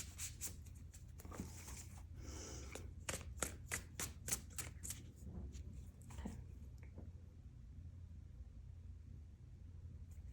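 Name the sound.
shuffling tarot cards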